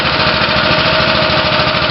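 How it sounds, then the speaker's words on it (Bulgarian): A go-kart engine warms up at a karting track, a loud, close, steady rattling putter with rapid even pulses throughout, with no voices. "Нека да загрее малко двигател"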